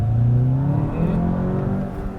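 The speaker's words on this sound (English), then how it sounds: "It sounds great. That sport exhaust system." VW Jetta GLI with a sport exhaust revving loudly up close, the engine note rising and then holding steady over a couple of seconds.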